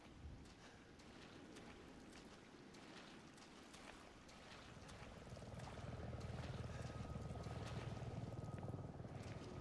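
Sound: helicopter in video game Resident Evil 7

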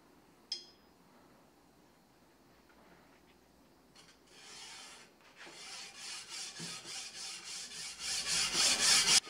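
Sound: scrubbing forge scale off a steel chopper blade

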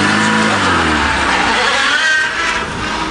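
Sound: Peugeot 106 car engine revving while driving

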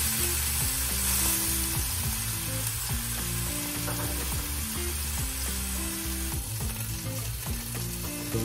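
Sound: meat sizzling while frying in oil in a pan

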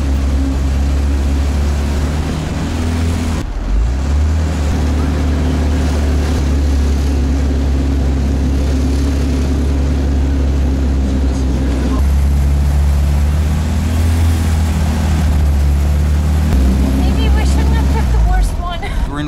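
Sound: ride in loud vintage motorized vehicle (bengbeng)

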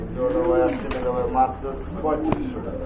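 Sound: large pigeons cooing

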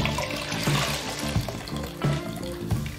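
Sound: wet cloth being gently wrung out

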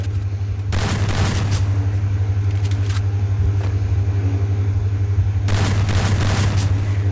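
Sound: grenade explosions and gunfire in the video game Free Fire

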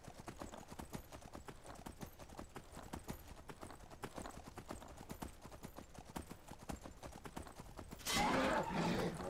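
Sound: Daedric Horse hooves in the video game Skyrim

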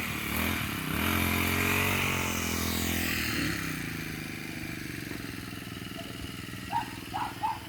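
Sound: engine grass trimmer cutting grass

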